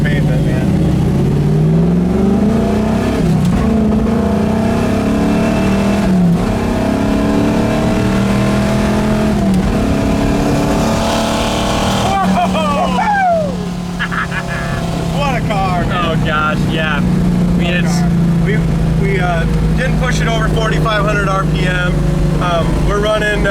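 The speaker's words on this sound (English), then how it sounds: "I'll go through the gears as fast as I can here" A 1967 Camaro Yenko tribute accelerating hard through its gears, a loud V8 roar climbing in pitch with each gear, a brief dip at the shift and then rising again, heard from inside the car with someone talking over it.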